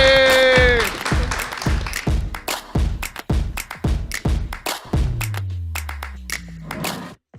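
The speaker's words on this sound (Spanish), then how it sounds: "un fuerte aplauso porque tenemos público" A small live podcast audience clapping, distinct close hand claps in an uneven rhythm, loud at first and tapering off as a musical tone slides downward beneath them.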